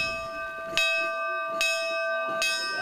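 A newly installed chapel bell rings three evenly spaced strikes, each leaving a long ringing tone that overlaps the next, loud and close.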